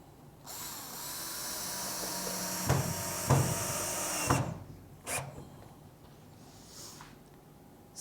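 A power drill drives screws into a cedar plank on a pallet sawhorse: one long, loud whirring run followed by shorter bursts and knocks as the screws seat, then fading handling sounds.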